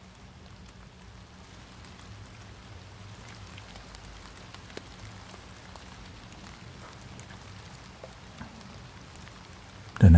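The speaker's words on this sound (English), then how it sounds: "I could add a rain sound, right?" Rain sound added into a live sound journey with flutes and bowls patters softly and evenly in a low, continuous wash, with a few brighter drops and a sudden louder burst at the very end.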